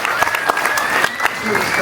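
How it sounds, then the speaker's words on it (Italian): An audience in a town square applauds at a fashion show, a close, loud scatter of claps with a few sharp individual slaps standing out. A voice talks over it. "E adesso si prende un altro grande applauso e che saluta questa splendida piazza"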